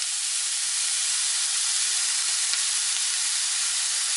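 Pasta sauce, homemade or store-bought, poured into a hot pan gives a steady, loud, hissing sizzle that holds evenly from start to finish with no voices.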